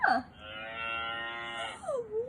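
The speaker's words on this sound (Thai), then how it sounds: "วัว" A single long, drawn-out recorded cow moo, its steady harmonic tone rising at the start and falling at the end, played from a children's animal sound book with no talk over it.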